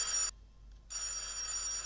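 A telephone bell rings loudly in the 1984 comedy film Top Secret!, with a short ring, a brief pause and then a longer ring that carries on alone.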